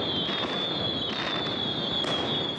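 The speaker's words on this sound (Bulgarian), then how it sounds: "В Пловдив заря от 3-те пета озари небето в полунощ." New Year's midnight fireworks over Plovdiv, Bulgaria, where celebrants gathered in a square. Dense, continuous crackling and popping rolls on steadily with no talk.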